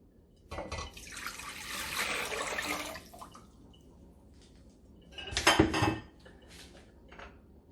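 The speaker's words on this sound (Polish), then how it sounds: "Do garnka wlewam wodę." Water poured into a cooking pot while preparing marinated zucchini, heard as a splashing, pouring rush for about two and a half seconds, then a clatter of pot and metal handling a little later, close by with no talk.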